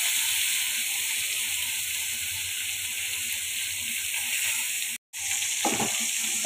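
Fish pieces sizzling in hot oil in a pan, a steady bright hiss with a short break and a few soft clinks near the end.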